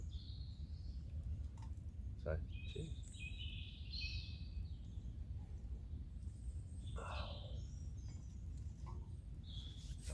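Birds singing at a woodland bushcraft camp at dawn, scattered chirps and short song phrases at moderate distance over a steady low rumble, with a brief spoken word near the start.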